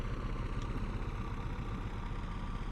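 Aircraft engine running with the propeller spinning in Microsoft Flight Simulator, a steady droning hum with a low rumble throughout, even and unbroken, no voices.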